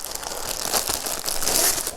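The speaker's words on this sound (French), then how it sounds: "Il faut juste que je trouve le bout du papier. Désolée pour le bruit." Paper crinkles and rustles up close as a parcel holding a cross-stitch kit is unwrapped, a brief flurry of crackling handling sounds with no talking.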